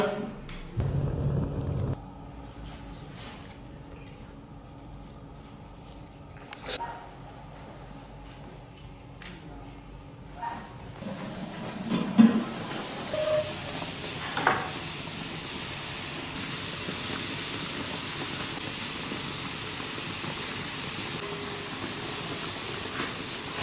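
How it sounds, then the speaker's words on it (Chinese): A covered pot of beef with scallion, ginger, dried chilies, Sichuan pepper, star anise and other spices comes to a boil, giving a quiet start with faint clatter and then a broad steady hiss of steam and bubbling. "盖上锅盖，煮1个半小时"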